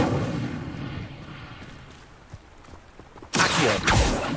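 An Incendio fire spell in Hogwarts Legacy on PS5 sets off a sudden loud fiery burst in the last second. The roar sustains and crackles after quieter rumbling game ambience with faint ticks.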